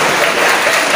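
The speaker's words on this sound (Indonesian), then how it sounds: "Tepuk tangan untuk istri apa?" Audience applause at a married-couples seminar, a dense, steady wash of clapping from a room of people filling the whole brief moment at fairly close range.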